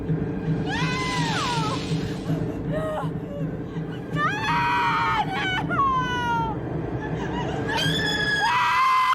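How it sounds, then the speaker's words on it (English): A woman screams over the end credits of the 2004 horror film Skinned Deep, long shrill wails rising and falling repeatedly over a steady music bed, loud and continuous. "She screams the entire time."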